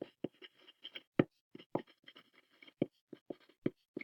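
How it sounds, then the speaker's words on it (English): Close, quiet scratching of handwriting on paper while notes are written out, a series of short irregular strokes and taps with brief gaps between them. "I'm going to write this one out"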